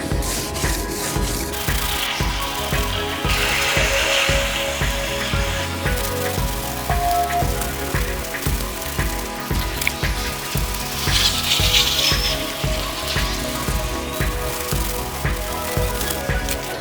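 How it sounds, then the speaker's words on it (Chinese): Hand wet-sanding of a freshly finished rear bumper on a Honda Civic FD2 with fine 1500-grit sandpaper: steady, close rhythmic rubbing strokes repeat continuously with a gritty, wet scrape and no talk. "轻轻的打磨呢，也可以把之前的一些小灰尘什么之类的，全部都带下来"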